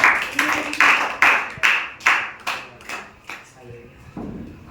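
A quiz audience claps after a correct answer on the Ramayana, giving a series of separate, fairly loud claps that slow down and fade over a few seconds.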